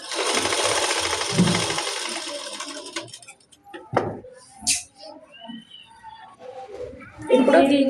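A sewing machine stitching the lining of a balloon frock runs in a fast, dense whir for about three seconds, then stops, leaving scattered handling noises and a voice talking, with a brief burst again at the end.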